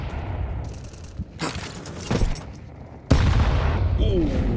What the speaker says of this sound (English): Powerful nade